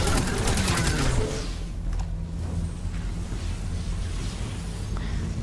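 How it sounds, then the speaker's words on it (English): Destiny 2 gunfire opens with a dense, rapid burst of shots lasting about a second, then gives way to quieter rumbling game ambience with a few faint distant impacts. "we can just keep shooting them and kill them"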